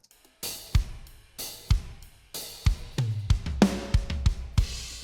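Kick and snare drum samples with blended hardware compression play a steady pattern of punchy hits, and the room tone and sustain are brought forward. A short melodic tone appears midway, and no one speaks.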